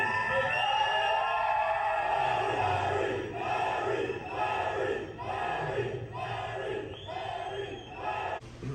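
Large crowd of people at a biker build-off cheering and shouting together, loud rhythmic waves of voices rising and falling, heard from nearby and filling the whole stretch.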